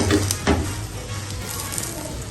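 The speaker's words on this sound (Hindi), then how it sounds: "अब ये सीधे वाले चम्मच से मैं इसको प्रेस करूंगी ताकि हर तरफ से ये पक जाए" Mooli paratha cooking on a griddle over low heat while a flat spoon presses it down, a close steady sizzle with a couple of brief scraping presses near the start, no voices.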